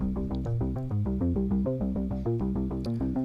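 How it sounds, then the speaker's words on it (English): A disco trance synth plays a bright, pulsing pattern of short stepped notes over a steady bass, continuous and fairly loud with no voices. "So this disco trance synth that I alluded to earlier, it sounds like this."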